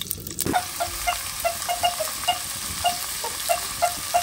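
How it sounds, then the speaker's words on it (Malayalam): Chopped onion and tomato sauté in a hot pan for a Kerala pothichoru meal, a steady close sizzle with regular light scraping taps of the stirring spoon and no voices. "ഫ്രൈക്ക് ഇനി അരിഞ്ഞു വെച്ച ഉള്ളി, തക്കാളി ഇതെല്ലാം കൂടിയിട്ട് വഴറ്റിയെടുക്കുന്നു."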